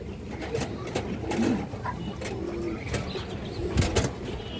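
Pigeons coo in low, soft bursts at a pigeon farm, with several birds calling intermittently over a busy background of rustling and faint chirps, fairly close and moderately loud.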